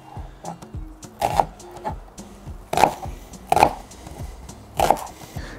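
Forged stainless-steel Uzbek chak knife chopping food on a board, sharp thuddy strikes in irregular bursts of several chops with pauses, close and fairly loud, no talking.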